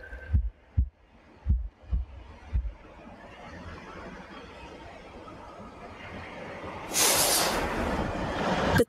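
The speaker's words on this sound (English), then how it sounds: "a deafening heartbeat." A deafening heartbeat in The Last Campfire: several heavy, low thuds in an irregular pulse open the passage, then a long breathy hiss swells and gets louder toward the end.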